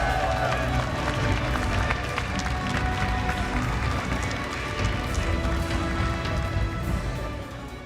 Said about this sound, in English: a big round of applause for Shanks